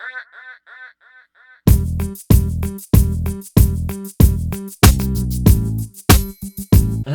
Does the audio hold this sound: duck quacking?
yes